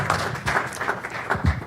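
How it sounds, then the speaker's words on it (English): Applause from the audience at a county commissioners' business meeting, a brief patch of steady, moderately loud clapping with no break. "All right, a round of applause for him anyhow."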